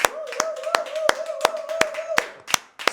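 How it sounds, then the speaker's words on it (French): Studio audience clapping to welcome a rapper onto a live TV show. The claps are sharp and evenly spaced in a brisk rhythm over a steady held tone, thinning out near the end. "que je vous demande d'applaudir très très fort"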